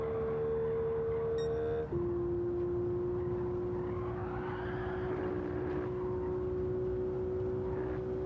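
An electric car in Gran Turismo 7 laps the Nordschleife, giving a fairly quiet, smooth motor whine whose pitch steps down once and then holds steady, with faint road and wind noise underneath.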